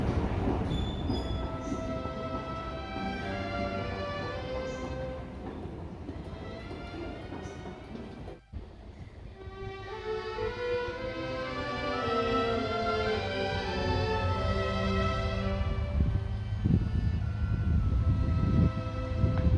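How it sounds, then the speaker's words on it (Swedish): A passenger train bound for Växjö rolls into a station with a steady rumble and squealing, shifting brake tones that rise and fall as it slows alongside. "så efter en stunds väntan så rullade dagens sista krösartåg mot Växjö in på spår 2A"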